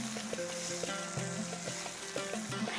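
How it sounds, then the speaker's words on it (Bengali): A spice masala sautés in a pan for a Bengali fish curry, giving a continuous close sizzle with rhythmic tonal scraping and stirring strokes. No one speaks. "দেখুন মশলাটা খুব ভালোভাবে কষানো হয়ে গিয়েছে"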